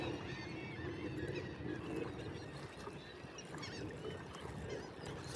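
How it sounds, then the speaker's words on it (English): A flock of seagulls calls repeatedly near a Florida fishing spot, with overlapping squawks and cries forming a steady, busy chorus heard from a moderate distance. "It's a bunch of seagulls."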